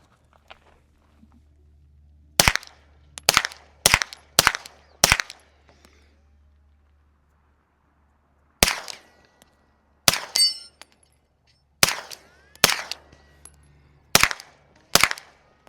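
Sharp suppressed rifle shots with supersonic rounds, through a Stealth Additive Works SHIV suppressor, crack in quick clusters, two volleys of several rounds with a pause between, each report followed by a brief metallic ring from a steel target.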